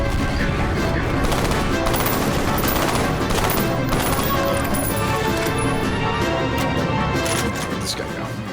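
Dense, continuous gunfire and explosive crashes from the FEAR Extraction Point shooter game fill the whole stretch, loud and sustained with bursts layered over a constant roar of combat.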